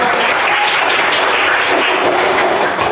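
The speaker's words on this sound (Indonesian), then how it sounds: "Oke, tepuk tangan." A roomful of people bursts into loud, continuous applause at a teacher-training session, dense and steady clapping close by for the whole stretch.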